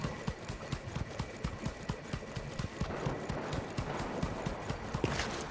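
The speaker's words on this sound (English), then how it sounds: "There's a guy in front of me on a horse." Horse hooves clip-clop at a steady galloping rhythm in the video game Fortnite, close and continuous throughout, with a broad hiss building toward the end.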